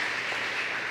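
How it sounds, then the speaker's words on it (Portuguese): A church congregation applauds during a Sunday Bible school service, producing a steady, dense wash of clapping with no distinct individual claps that lasts about a second. "Vamos aplaudir o Senhor, Deus é fiel"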